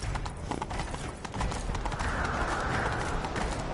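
A galloping horse in The Witcher 3 pounds out rapid, steady hoofbeats close up and loud throughout, with a brief whinny-like texture and no talking.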